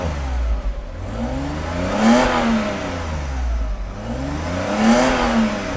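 Engine of a Mercedes R129 300SL revved twice past 4000 rpm, each rev climbing quickly to a high whine then dropping back to idle, loud and close.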